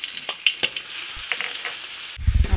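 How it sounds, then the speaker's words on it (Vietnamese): Minced onion and garlic sizzle and fry in a pan, a steady crackling hiss broken by sharp spatters and pops, with a louder burst of stirring and scraping near the end. "Mình cũng cho hành tỏi băm vô mình phi cho thơm."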